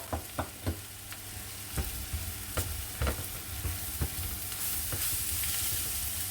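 Chopped garlic and cloves fry in a pan for bobotie, a close, steady sizzle with sharp scraping knocks of a spoon early on that thin out as the frying hiss swells.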